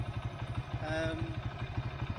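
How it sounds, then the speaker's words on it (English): A Vietnamese Honda Win motorcycle engine runs steadily in a fast, even low thumping rhythm close by, with a brief tonal whine rising over it in the middle. "So as you can see, this motorcycle, it makes no funny noises"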